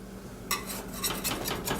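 Butter knife scraped around the inside edge of a metal pan of banana bread to loosen the loaf, starting after a brief pause with a run of close, bright metallic scrapes and rubs and no voices.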